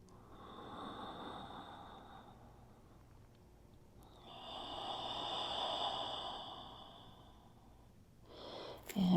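Slow breathing during a yin yoga pose, two long airy exhales separated by a quiet pause, close and soft with a louder breath burst at the very end, no talk.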